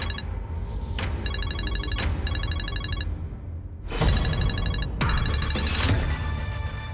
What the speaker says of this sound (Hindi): फोन उठा लो। इतनी रात को किसका फोन है?